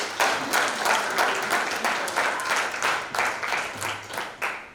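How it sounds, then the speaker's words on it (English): An audience at a celebration summit claps for presenting groups, a rhythmic, near-unison clapping that pulses steadily and fairly loudly for several seconds. "Give them a round of applause as they come."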